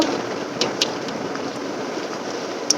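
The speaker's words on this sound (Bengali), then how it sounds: "বৃষ্টি হচ্ছে আর জানলায় শ শা শা শা করে আওয়াজ হচ্ছে হাওয়ার সাথে প্রচণ্ড বৃষ্টি হচ্ছে" Heavy rain driven by wind beats against a window in a steady, dense hiss, with a few sharper gusts and taps standing out near and loud.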